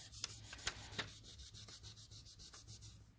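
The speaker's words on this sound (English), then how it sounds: "I'll just try and gently rub that little groove away." Gentle, rapid rubbing against soft polymer clay to smooth away a small groove, a quiet, rhythmic series of short strokes, close and steady, with no voices.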